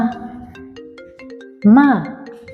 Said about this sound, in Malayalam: ഫോൺ അടിക്കണേ അത് കട്ടാകും